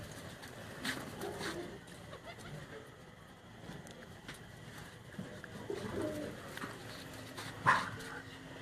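Pigeons coo softly in the background amid scattered outdoor noises, with a brief louder call near the end.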